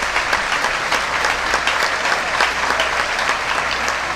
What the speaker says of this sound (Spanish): Todos los aplausos.